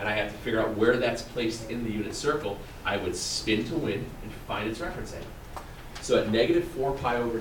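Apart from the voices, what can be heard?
None of the usual background noises is heard.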